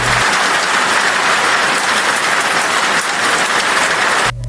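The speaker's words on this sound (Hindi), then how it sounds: "पर उसी रात बारिश शुरू हो गई।" Rain falling at night makes a steady, loud, dense hiss that fills the whole stretch without pause and cuts off abruptly near the end, with no talk.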